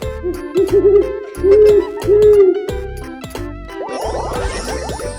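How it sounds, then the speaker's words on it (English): An owl hooting in a children's learning sequence, a few steady toned hoots at moderate loudness set among chiming, jingling musical tones, with no talking. "Owl."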